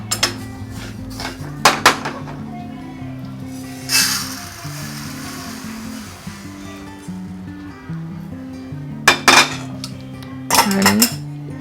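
Utensils clink and scrape against a pan as roasted rice is taken out for chakli bhajani flour. Several sharp metallic knocks come close and loud over a soft background hum.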